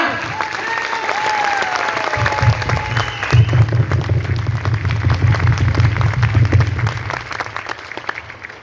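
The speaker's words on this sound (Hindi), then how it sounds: "जोरदार तालियों से" An audience breaks into steady, dense applause that swells and carries on for several seconds, with a faint voice and crowd murmur beforehand.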